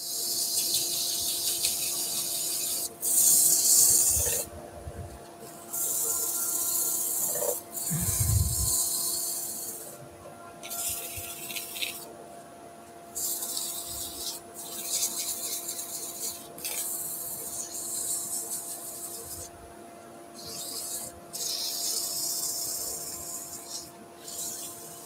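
A wooden cheese platter spun on a lathe is sanded with 240-grit paper, giving a soft, steady rasping hiss in several bursts separated by brief pauses, with no voices.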